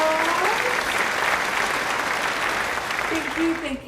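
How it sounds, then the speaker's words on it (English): A short, continuous burst of crowd applause, loud and even, fading slightly toward the end. "Everybody, let's give a round of applause."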